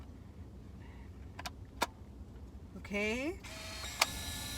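An i-Type film pack slides into a Polaroid Now instant camera, giving a couple of short, sharp clicks and a brief rising mechanical whir, close and quiet against a hushed room, with a person briefly speaking.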